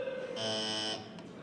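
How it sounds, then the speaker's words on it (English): A small vibrating motor buzzes inside a toy Tribble, a steady harmonic drone that swells louder for about half a second and then drops back to a lower hum. "But that is what the original motor sounded like. Yeah, the motor was vibrating inside."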